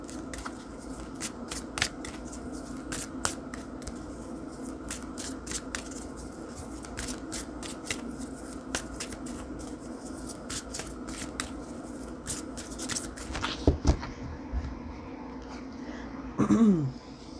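Oracle cards being shuffled for a tarot reading: a long run of quick, crisp riffling flicks repeating steadily at close range, with a few louder clatters and handling noises near the end and no talk.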